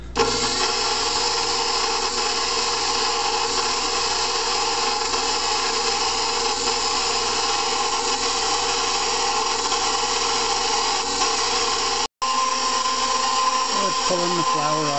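An electric stand mixer whirs steadily as it mixes pumpernickel bread dough of flour, oil, molasses and a milk-yeast mixture, a loud continuous drone lasting almost the whole stretch with one brief cut-out near the end.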